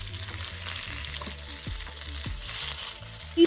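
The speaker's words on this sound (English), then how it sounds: "Keep sauteing until the shallots are caramelized and the spinach begins to wilt" Spinach, shallots and garlic paste sautéing in a pan, with a steady close sizzle and a few soft scraping stirs and tosses, no voices.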